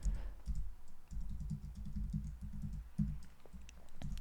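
Rapid, close-up keystrokes on a computer keyboard as a password is typed, with steady clicking runs broken by a few short pauses and no talking.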